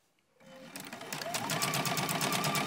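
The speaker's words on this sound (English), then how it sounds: "I'm going to go all the way down and do a back stitch when I get to the other end" A sewing machine starts up and runs steadily, stitching a fabric seam for a purse, a close, rapid mechanical whir that builds quickly and holds even.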